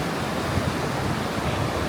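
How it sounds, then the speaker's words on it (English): Ocean waves surge in continuously on a California shoreline, a loud, steady broadband wash of surf with no pauses and no voices. "They just keep, the waves, they just keep coming."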